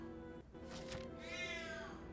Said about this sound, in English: I have to go deal with my cat, she's yelling at me.